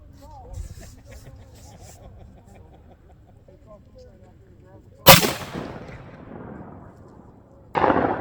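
A single loud gunshot cracks at a shooting range midway through, preceded by quiet movement and a faint voice, with its echo trailing off before another sharp noise at the end.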